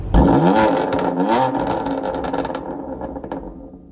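A BMW M4 CS with a full titanium cat-back exhaust barks loudly as the engine revs up sharply, then crackles and burbles while the revs fall away, recorded close with no talking.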